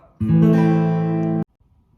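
A single guitar chord strummed once and held, ringing loud and close for about a second before being cut off, played alone with no talk.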